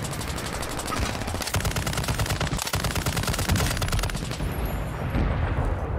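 Rapid automatic gunfire in a shooter video game, a loud dense stream of shots that keeps rattling with brief pauses before tailing off near the end.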